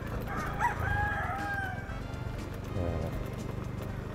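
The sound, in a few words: rooster crowing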